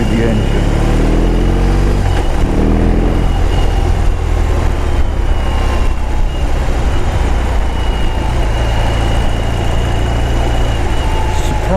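A BMW R18 motorcycle engine runs loud and steady with a deep, continuous rumble, heard during a test ride under wind noise, with someone talking over it.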